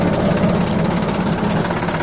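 Sonalika DI 35 tractor diesel engine running at low throttle, a steady close-up rumble with even low knocking pulses and no revving, heard alone.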